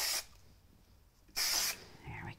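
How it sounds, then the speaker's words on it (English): Spray glue hisses from an aerosol can onto the back of a piece of white card, in two short, close bursts separated by a pause of about a second. "just use a little bit of spray glue"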